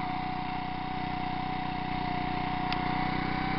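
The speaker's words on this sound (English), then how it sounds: "We're at full throttle. I'll bring it down to idle." A Craftsman small engine, nearly new and still breaking in, idles on synthetic gasoline after running at full throttle, a steady close chugging hum that holds even and alone.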